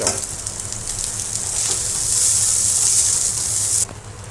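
Whole-wheat chowmein sizzles and hisses loudly in a hot pan with pepper powder as it is stir-fried, a steady bright frying crackle with faint stirring scrapes, cutting off abruptly near the end.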